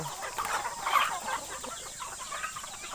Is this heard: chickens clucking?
yes